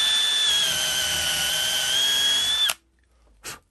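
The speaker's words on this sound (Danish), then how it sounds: "så jeg borer lige præcis der, hvor jeg skal" A power drill bores a hole right at a pencil-marked spot, giving a close, loud, steady high whine for nearly three seconds before cutting off, followed by a brief second burst.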